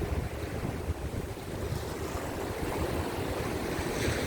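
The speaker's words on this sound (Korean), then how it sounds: "지금 물이 넘쳐가지고요. 파도가 넘어와가지고 일단 뒤로 옮겼습니다." Rough waves break and wash over the rocky shore at Jumunjin's Adeul Rock in Gangneung under a strong gale, a dense, continuous roar of surf and wind buffeting the microphone.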